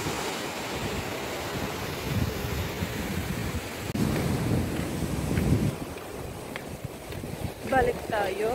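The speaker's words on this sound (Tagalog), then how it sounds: "Ang lalaki ng mga alon." Big ocean waves at Hallett Cove on the South Australian coast, a continuous rumbling surf wash with rising surges, buffeted by wind on the microphone, and a voice briefly heard near the end.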